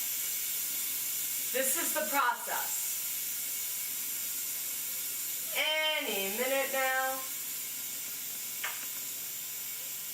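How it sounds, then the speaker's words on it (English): Steam hissing out of a cooking vessel aimed toward a back wall, a steady broad hiss running throughout at moderate level while someone talks over it in two short bursts. "as you can hear, the hissing is lessening."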